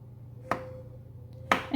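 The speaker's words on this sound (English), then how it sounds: "And you can chop these as big as you like as well." A kitchen knife chops mushrooms into bite-sized chunks, two crisp separate cuts about a second apart against a quiet background.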